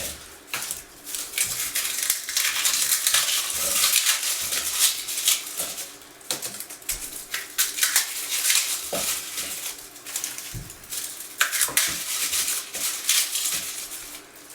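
Dry, papery rustling and crackling as homegrown garden garlic bulbs are cleaned up and broken apart into cloves, a busy, close, irregular crinkle throughout with occasional sharper snaps.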